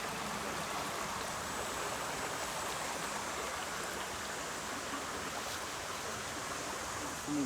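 A clean river at Khan Preserve in New Milford, Connecticut, flows and rushes in a steady, dense wash of water that stays close and unbroken throughout.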